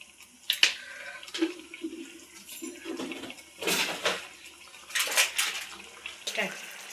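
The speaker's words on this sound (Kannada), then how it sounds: "ಸ್ವಲ್ಪ ನೀರು ಹಾಕ್ತಾಯಿದ್ದೀನಿ" Water is poured into a pan of paneer curry as it cooks, giving short splashing gushes with brief pauses between them, close and fairly loud, without talk.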